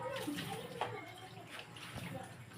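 Water is poured into a cooking pot, a moderate, uneven sloshing flow with small splashes, heard under bits of talking.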